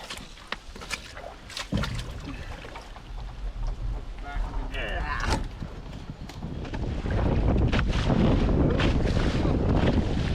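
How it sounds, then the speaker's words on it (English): Wind gusts across a lake on a high-water canoe trip, building to a steady roar against the microphone in the second half, with scattered paddle and boat knocks and some speech underneath. "Out in the wind. It got a little breezy there."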